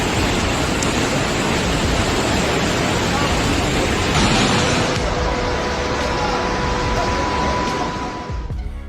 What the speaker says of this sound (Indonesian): Banjir Sungai Chongqing, Cina.